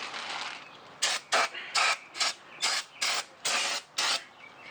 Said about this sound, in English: Spray it down.